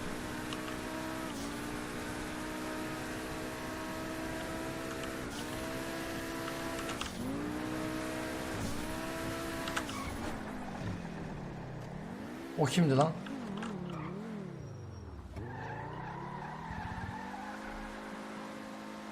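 Fast car in GTA 5 racing along with a steady engine drone, then swerving into a skid with tyre squeal around the middle, with a voice speaking briefly over the game sounds.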